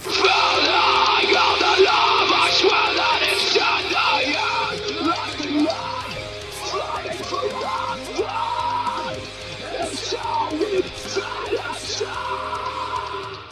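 Low chest fry screaming from a vocal demonstration: a harsh, gritty, growling voice that keeps going through a string of strained bursts, loud and close, over steady background music.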